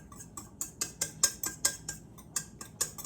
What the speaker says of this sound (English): Just a gentle whisk.